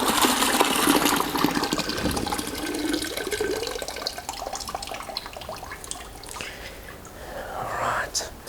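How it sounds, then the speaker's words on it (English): Coolant drains out of the radiator of a BMW M42B21 engine, a steady close gush of liquid that slowly tapers, with whispery hiss and faint clinks mixed in. "I'm going to decant the radiator"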